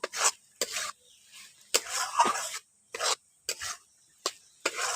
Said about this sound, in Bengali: আলুগুলো দিয়ে ভালো করে নাড়াচাড়া করে মিশিয়ে নিচ্ছি